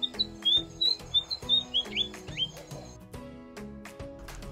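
A spot-breasted fantail sings a run of quick, high, clear chirping notes in a steady rhythm, close and fairly loud, with a few softer calls trailing off.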